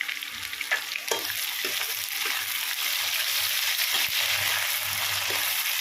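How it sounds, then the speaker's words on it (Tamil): Onions and garlic sauté with salt in a pan on an induction stove, a steady close sizzle with occasional spatula clicks and stirring scrapes throughout. "வெங்காயம் நல்லா வதங்கிச்சு, பூண்டு நல்லா வதங்கிச்சு."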